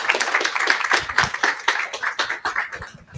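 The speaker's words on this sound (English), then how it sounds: "clap." An audience at an evening science literacy workshop claps steadily for a speaker, many hands producing a continuous, fairly loud patter of sharp slaps that keeps going for about three seconds.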